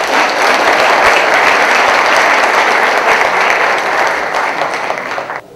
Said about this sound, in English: I'd like to actually ask for a round of applause to celebrate and remember Mr.